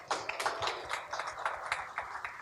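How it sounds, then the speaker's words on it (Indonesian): Scattered, light applause from a talk-show audience, a thin run of separate claps rather than a full ovation, fairly faint. "Beri tepuk tangan untuk beliau."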